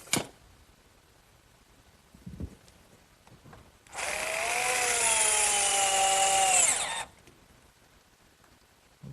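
Power drill driving a fastener into the end of a wooden sandbox frame, one loud sustained whir lasting about three seconds with a slight pitch shift, preceded by faint handling knocks.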